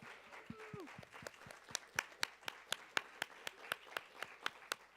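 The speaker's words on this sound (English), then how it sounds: "So if you guys will please stand up so we can give you a round of applause." A small audience at a university student government meeting gives a round of applause for committee chairs, scattered clapping building into a steady rhythmic patter, fairly faint and distant, with a brief voice at the start.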